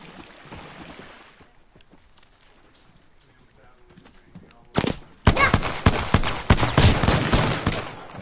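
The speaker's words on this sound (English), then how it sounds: "They spotted me. I'm taking shots." Video game shootout gunfire: a quiet, muffled stretch gives way to loud, rapid bursts of shots and sharp cracks that keep up steadily to the end.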